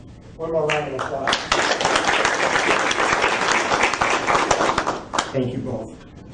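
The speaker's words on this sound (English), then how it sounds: "One more round of applause." Renewed applause at a school board meeting: after a spoken lead-in, a dense, loud round of clapping from the room fills several seconds before voices return at the close.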